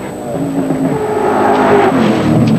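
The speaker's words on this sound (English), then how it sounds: "Exhaust puffing out the exhaust of the 308 5-litre Holden. A fabulous sounding car." A V8 Holden 308 5-litre race car at the Bathurst circuit, engine droning and rising in pitch as it accelerates, loud and continuous with a faint commentary voice beneath.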